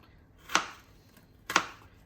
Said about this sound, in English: You would want to cut it in a way that it's a bit like julienne.